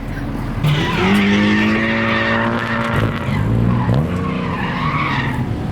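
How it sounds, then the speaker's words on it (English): A crashed 240 car is push-started rolling down a hill; its engine catches with loud, wavering whines that rise, dip and rise again, close and continuous. "It's time to push start this car down the hill."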